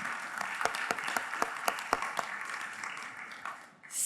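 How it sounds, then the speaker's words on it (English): Conference audience at a space resources event applauds a panel: scattered, fairly faint clapping with individual claps standing out, thinning and fading toward the end. "A round of applause to you, but in fact to all panelists."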